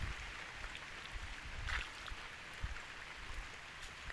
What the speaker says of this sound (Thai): เดี๋ยวนี้ฝนก็ยังตกอยู่เนาะ